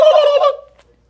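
A single loud turkey gobble sound effect plays alone, a quick warbling burst lasting about half a second before it cuts off into silence.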